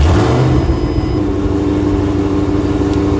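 Roush Mustang engine just started and revving, a loud close rumbling exhaust that settles from a rising rev into a steady high idle.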